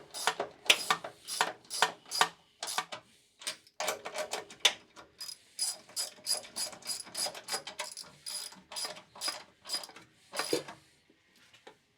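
An impact tool or ratchet drives bolts into the suspension of a Honda CR-V, sounding as a long series of sharp rattling bursts with short pauses between them, close and fairly quiet.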